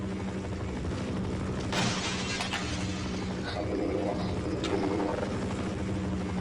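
A helicopter in Half-Life roars as a steady, dense rotor and engine drone throughout. Several sharp metallic clanks and bursts from the game cut through the noise.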